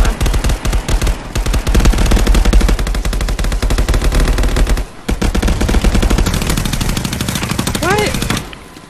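Rapid automatic gunfire rattles almost nonstop in the Contractors shooter game, dense and loud, with a brief break near the middle and a short pause before the end.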